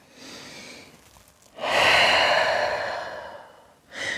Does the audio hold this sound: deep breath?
yes